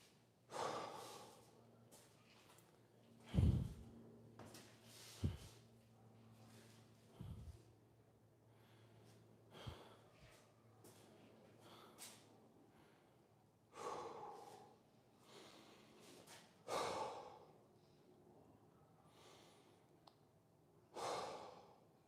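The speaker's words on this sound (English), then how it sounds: "Let the breathing settle." Heavy, labored breathing after a squat workout: repeated deep inhales and exhales with snorting gasps and sighs, close and fairly quiet, with no talk.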